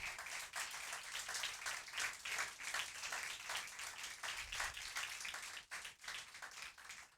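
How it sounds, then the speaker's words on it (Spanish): Applause and clapping from a church congregation at the close of a Sunday service, a dense steady wash of many hands filling the space, moderately loud and sustained without pause. "Denle un aplauso al Señor"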